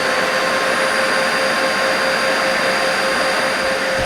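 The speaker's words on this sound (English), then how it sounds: "So I'm going to switch the motors on, and we'll start working." Both motors of a Kerrick SkyVacuum gutter vacuum run together at close range, making a loud, steady, high-pitched whine with sustained tonal hum that does not change over the span.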